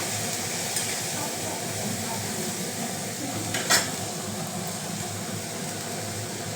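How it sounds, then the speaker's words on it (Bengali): Mola fish gently stirred in a pan, a steady soft sizzle of frying with a faint scrape and one brief clink of a utensil against the pan, no voices. "এভাবে একটুখানি হালকা করে ঘাটবো।"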